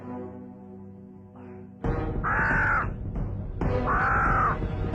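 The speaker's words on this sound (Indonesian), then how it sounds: "Suara burung itu sepertinya akan ada hal buruk yang akan terjadi." Harsh cawing bird calls, loud and close, come as two long raspy caws after a quieter tonal drone.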